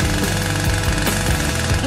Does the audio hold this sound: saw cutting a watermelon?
yes